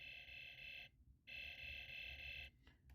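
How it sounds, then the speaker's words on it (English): A toy's built-in electronic laser sound effect: a harsh, buzzing, alarm-like tone sounds in two long bursts separated by a short gap, followed by brief stuttering blips, all fairly faint and close. "This isn't the laser sound from the movie"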